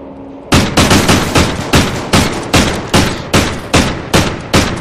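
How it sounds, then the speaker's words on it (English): Assault rifle fire in a video game, loud and close: about a dozen evenly spaced sharp shots in a steady rhythm, with no talking. "I'm pulling out my assault rifle"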